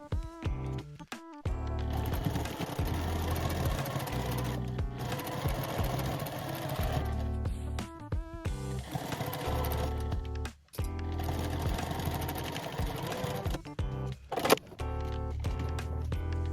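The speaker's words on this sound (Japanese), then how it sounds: "両脇を縫い代1センチで縫います。" A sewing machine stitches the side seams of a fabric collage tote bag, whirring steadily at close range in several long runs broken by brief pauses and small clicks.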